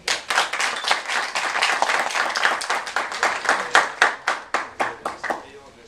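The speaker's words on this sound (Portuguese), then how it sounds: "Recebe como aplauso." Audience applause at a family-day event, a smaller group's clapping with distinct individual claps becoming sparser and more rhythmic as it dies down.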